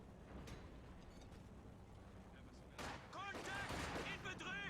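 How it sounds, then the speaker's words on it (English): An MG34 machine gun lays down suppression fire in Company of Heroes 2, rattling bursts that pick up partway through, fairly faint and mixed with battle noise under a commentator's voice. "As suppression from the MG34,"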